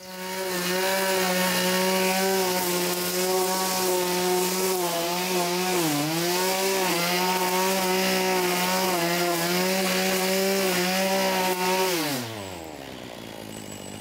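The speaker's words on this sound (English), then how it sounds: "strim and get these pots empty of weeds" A petrol string trimmer clears weeds from garden pots: a loud, close two-stroke engine whine holding steady with brief pitch dips under load, then winding down at the end, no talk.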